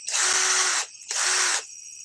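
A Menards Master Force Boost hydraulic impact driver spins in two loud, close bursts, each a bright sustained whir lasting under a second, separated by a brief pause and followed by a quieter hum.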